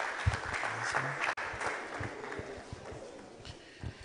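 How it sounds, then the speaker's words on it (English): A training-session audience gives a round of applause after a speaker, fairly faint, uneven clapping from a modest group with scattered louder claps and a brief dropout partway through. "Please a round of applause for him."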